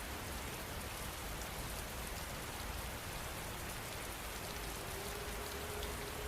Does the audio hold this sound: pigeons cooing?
no